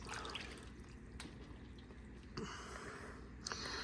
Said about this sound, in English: dip it and squeeze, dip and squeeze to get the juice